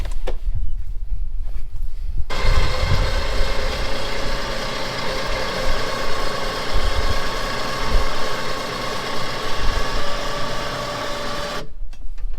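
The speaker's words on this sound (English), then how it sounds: "I hook my winch up to it right here." A winch reels in its cable to pull a top down, making a continuous loud mechanical whirring with ratcheting gear chatter for about nine seconds between quieter moments.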